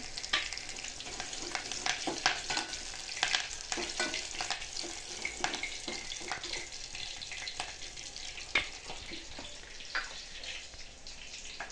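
Curry leaves crackling and frying in hot oil with garlic in a pan, a steady sizzle broken by frequent sharp pops and spatters, close and fairly quiet, with no voices.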